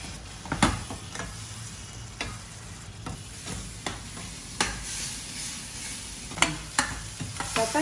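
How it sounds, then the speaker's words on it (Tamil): Ground tomato paste is sautéed and stirred in a pan with onion, garlic and chili powder for a tamarind curry, giving a soft steady sizzle and repeated sharp scrapes and clicks of a spoon against the pan. "தக்காளி சேர்த்து நல்லா வதக்கணும்."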